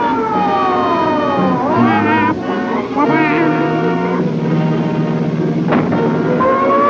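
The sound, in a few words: police car siren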